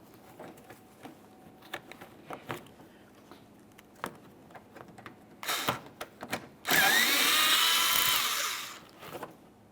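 A power tool spins out a bumper mounting bolt on a 2014-2018 Mazda 3 using an 8mm socket. Scattered light clicks and handling taps come first, then one loud, close whirring burst lasts about two seconds before it winds down.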